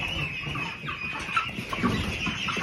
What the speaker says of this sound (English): Got the baby meat birds.